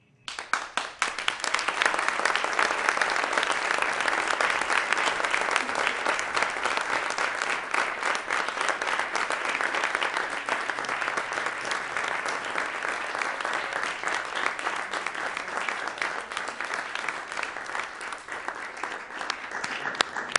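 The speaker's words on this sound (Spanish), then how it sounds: "Ahora yo les aplaudo a ustedes" A studio audience applauds steadily for about twenty seconds, dense and continuous clapping that stays loud throughout with no pauses.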